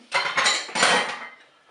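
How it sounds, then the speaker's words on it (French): Cabbage is tipped into a Cookeo multicooker pot for a pork roast with cabbage and potatoes, giving two close, clattering bursts of metal and utensil knocks against the pot. "Je vais ajouter eh bien, le chou."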